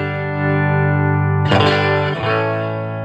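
An electric guitar plays through a Fender Frontman 25R amp: a sustained ringing chord, then a bright strummed chord at mid-clip that rings out with another sharp strum after it, loud and close.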